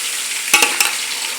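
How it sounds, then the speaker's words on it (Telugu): Chicken frying in a hot pan, a steady close sizzle with a few brief stirring scrapes in the middle, no one talking. "ఇప్పుడు వేడి వేసుకుంటే బాగా ఫ్రై అవుద్ది,"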